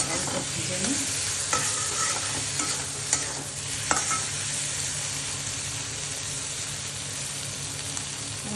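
Peas and potatoes sizzling in a pan for Bengali ghugni, with a spoon stirring and scraping through the mix and a few soft knocks, under a steady, close frying hiss.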